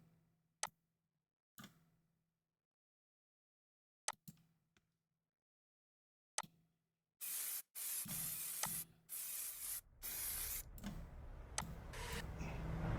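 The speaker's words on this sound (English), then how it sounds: "You hear that the spray painting." Short sharp hisses of an aerosol spray can in a few separate bursts, then a longer stretch of continuous spraying mixed with rattling and louder noise.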